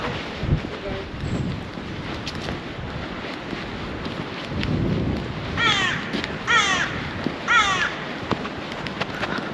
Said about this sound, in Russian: И от вороны.